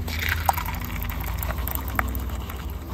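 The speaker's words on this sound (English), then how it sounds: "We're gonna pour it into the mold, get it about" Wet concrete mix is poured into a statue mold, a continuous soft sloshing and gushing with a couple of small splats, close and moderately loud.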